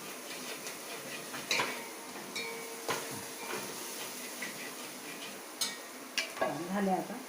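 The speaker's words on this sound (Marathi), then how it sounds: "फोडणी होती आहे अजून चांगली।" Ghee tempering sizzles in a pan while making varan phala, a steady frying hiss with scattered clinks of a spoon against the pan and a few louder scrapes near the end.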